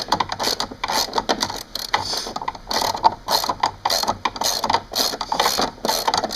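A socket wrench ratcheting on a bolt during a stage 2 teardown of a 2002 Audi S4, a steady run of close, quick mechanical clicks with no talk.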